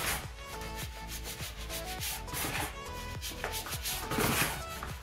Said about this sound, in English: after rubbing the flour in hot cooking oil, this is how it looks like